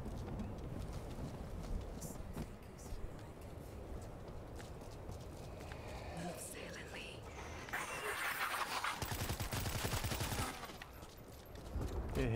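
Gunfire from a zombie-horde shooter on a horde mode, rapid irregular shots crackling over a dense game soundscape, with a louder burst of firing near the end.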